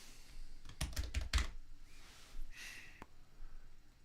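A quick burst of typing on a computer keyboard, close clattering keystrokes in a rapid cluster, then a quiet pause and one final key tap.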